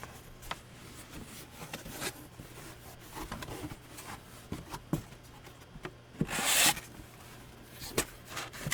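Cardboard box being folded by hand, with faint rubbing, scraping and creasing sounds scattered through and a louder crinkling burst near the end, close up and quiet, no talk.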